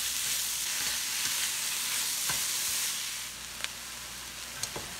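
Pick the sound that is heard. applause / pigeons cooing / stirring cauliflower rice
stirring cauliflower rice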